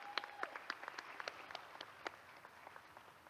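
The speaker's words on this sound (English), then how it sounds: "Let's give a big round of applause" Sparse audience applause at a high school graduation ceremony, with scattered distinct claps from a modest crowd fading gradually, fairly faint and distant.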